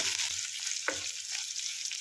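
Chopped ginger, green chillies and garlic sauté in a pan for lemon pickle, giving a steady, moderate hiss with one light clink of a stirring spoon partway through.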